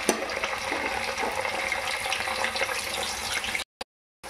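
Pre-boiled chicken pieces frying in hot oil for chicken pickle, a dense, steady sizzling hiss close up that cuts off abruptly near the end.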